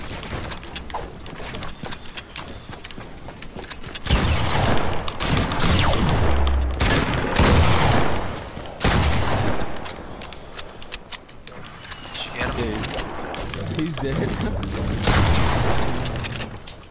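Bursts of video game gunfire crackle through a busy, dense mix, loudest in long stretches with dull booms and mechanical clatter in between, and no talk.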